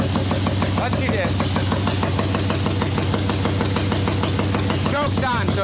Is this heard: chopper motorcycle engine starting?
yes